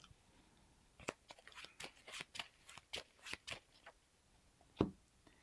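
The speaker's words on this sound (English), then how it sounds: "I'm going to shuffle something back in." Playing cards for the Marvel Champions board game are shuffled and handled on a table, a string of quick crisp riffles and snaps with one louder slap near the end, close but quiet.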